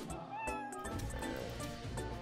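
A cat character in the Roblox video game meows repeatedly over a steady bed of game sound, the calls fairly close and clear.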